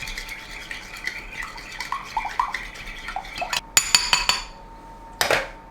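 Sugar pie filling stirred in a bowl with a utensil, a steady run of scraping and light clinks against the bowl, rising into a few sharper, louder knocks near the end.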